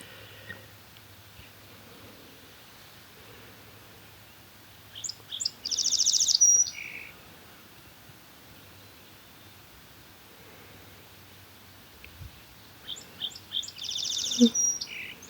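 Birds chirp and call at a foggy pond in the morning, in two short clusters of bright tweets separated by a quiet, faintly hissing stretch, fairly distant and soft.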